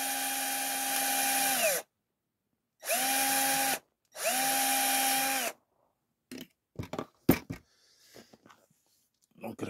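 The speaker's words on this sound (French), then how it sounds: "T'arrêtes de visser, toi!" A power screwdriver drives screws into an ARX540 motorcycle, three loud whirring bursts with rising and falling pitch, followed by sharp metallic clinks and clatter close by.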